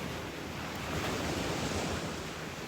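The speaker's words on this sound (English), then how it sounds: "how amazing do those waves sound today?" Ocean waves wash steadily onto the shore in a continuous broad roar of surf, with light wind noise on the microphone and no voices.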